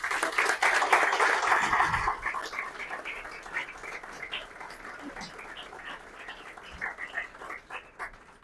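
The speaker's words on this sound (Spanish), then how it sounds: "por eso le quiero pedir a ustedes unas palmas para Diego Nieves" Clapping from a gathered audience for Diego Nieves at a book celebration, strongest for the first two seconds then thinning into scattered, fainter claps with murmurs.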